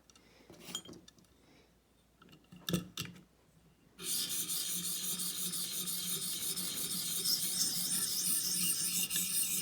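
The heel of a Benchmade Mini Adamas knife is sharpened toward a mirror edge. A few scattered scrapes and a clink come first, then a steady, continuous hissing rasp of the blade on the abrasive that runs to the end.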